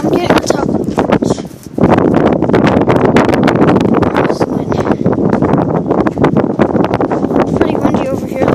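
Strong gusty wind of 30-plus mph buffeting a microphone on a bridge during a winter storm in Cleveland, a loud continuous roaring rush that briefly drops near the start before returning at full force.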